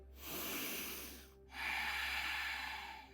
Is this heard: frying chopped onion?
no